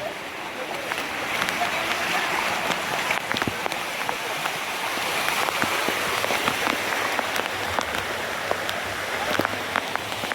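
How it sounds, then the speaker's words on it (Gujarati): Heavy monsoon rain pours steadily over the Girnar hills near Junagadh, a dense, continuous hiss of drops pounding surfaces nearby for the whole stretch, with voices faintly talking beneath the downpour. "જોરદાર વરસાદ છે."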